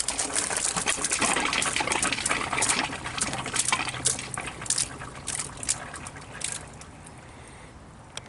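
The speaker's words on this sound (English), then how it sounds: "And now the top tank should be filling up." Water gushes steadily into a camper van tank in a Mercedes Sprinter conversion and spills out through the vent valve. The flow is loud and close at first, then eases to a quieter trickle.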